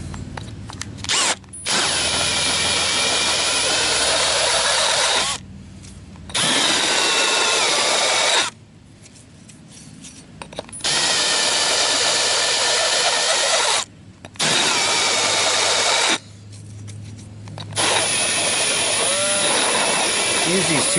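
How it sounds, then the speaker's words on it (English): A power drill deburrs freshly drilled holes on an RC lawn mower chassis, whining loudly in five or six bursts of a few seconds each with brief pauses between, close by. "so now I'm going to deburr them."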